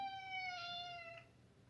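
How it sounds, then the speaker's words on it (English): A female house cat lets out one long, drawn-out meow close by, its pitch sliding slowly downward; no one talks. "all she does is just meow, meow, meow, meow, meow all day"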